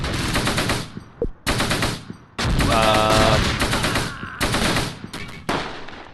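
Gunfire in the World War II tactics game Close Combat, Normandy 1944: loud bursts of machine-gun and rifle fire in several blocks with short gaps, with battle noise and a tonal whine in the middle stretch.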